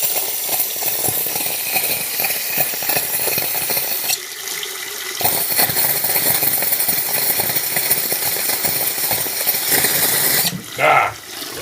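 A bathroom faucet sputters out brown, rusty water, a loud, steady gushing broken by irregular spitting bursts as puffs of air cough through the pipe, with a brief lull and a sharper splutter near the end.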